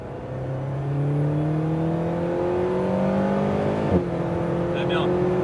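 Alpine A110R race car at full throttle on the Bugatti circuit, its engine note climbing steadily through the revs as the car accelerates hard, with a brief shift near the end.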